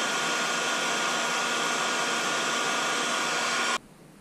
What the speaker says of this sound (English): Now I'm gonna add another heat shrink tube over this one, over both of these, just as an extra safety measure.